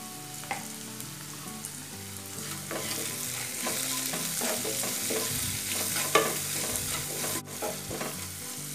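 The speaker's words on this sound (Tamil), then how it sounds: "இப்போ வெங்காயம் நல்லா வதங்கட்டும்." Sliced onions fry in a pan for wheat rava upma with salt and a pinch of asafoetida, giving a steady low sizzle broken by occasional scrapes of a stirring spoon, close and moderately quiet, with no talk.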